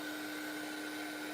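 A heat gun runs in a steady, close, loud blowing whoosh with a constant motor whine on top, unbroken from start to finish.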